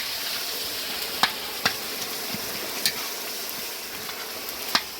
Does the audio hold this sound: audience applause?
no